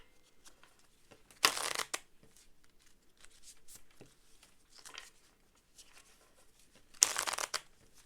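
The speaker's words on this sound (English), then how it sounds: "I love shuffling these cards." Tarot cards, an unusual long rectangular shape, being shuffled by hand in two distinct bursts of riffling near the mic, separated by quiet handling and faint rustling.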